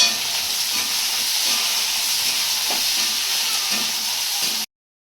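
Chopped onions frying in a pan give off a steady, loud sizzle and hiss with faint stirring scrapes, running continuously before cutting off abruptly.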